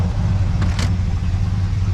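A custom 1955 Chevy engine idles steadily with a slight lope and its exhaust cutouts closed, a continuous low rumble close by with no talk.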